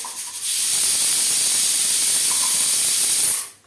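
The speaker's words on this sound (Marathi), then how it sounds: "आपली आता दुसरी सिट्टी झालेली आहे" A pressure cooker on a gas stove vents steam in one loud, sustained hissing whistle lasting about three seconds before cutting off, close and alone.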